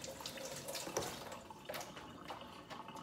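Tap water runs steadily over sausage in a kitchen sink, a close, continuous splashing rinse with small spatters and no voices.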